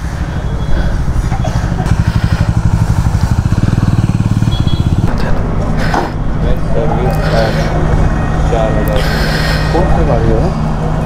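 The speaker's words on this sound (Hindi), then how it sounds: "बाइक का टेस्ट राइड लिया जा रहा है मैकेनिक के द्वारा जो मेरा बाइक सर्विस किया" A Bajaj Dominar 400 (2022 model) motorcycle ridden on a post-service test ride by a mechanic, its engine rumbling steadily and loudly as it approaches and passes, with voices talking over it.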